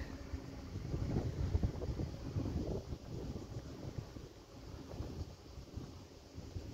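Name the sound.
wind at a quiet seaside spot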